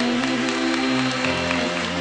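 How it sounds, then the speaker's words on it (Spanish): Congregation applause at a charismatic Catholic church service, a dense steady wash of clapping over sustained organ or keyboard chords and music throughout. "Fuerte el aplauso."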